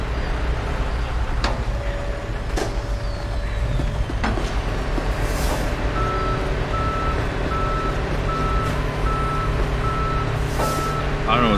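A tow truck in the Police Simulator game reverses with a loud, regular string of beeps, one after another, over a low truck engine rumble and a few hissing air-brake bursts.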